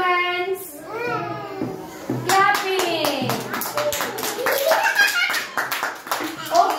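Children clap their hands in a preschool playgroup, a run of sharp, quick claps building over several seconds, mixed with an adult and kids talking and singing along.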